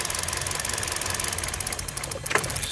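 Kia Rio engine idling with a misfire while a coil connector is pulled from cylinder four, a steady, close, loud rough rumble with uneven knocking pulses throughout and no talk.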